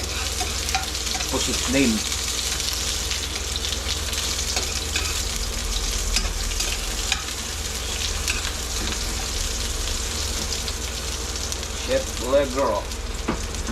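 Round onion rings fry in a pan for squid adobo, a steady close sizzle and crackle running throughout while someone speaks briefly over it.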